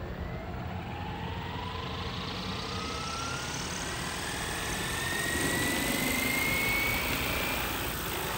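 A FlyWing RC helicopter flies with a steady, loud rotor and motor whine throughout, the pitch sweeping gradually upward and swelling slightly louder toward the end.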